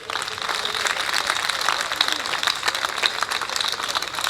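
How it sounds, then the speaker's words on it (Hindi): Applause from the audience at a Hindi comedy poetry show goes on for several seconds as a crisp, steady stream of claps, fairly loud and close, with voices faintly mixed in underneath. "जोरदार हरियाणा स्टाइल में ताली पीट दो।"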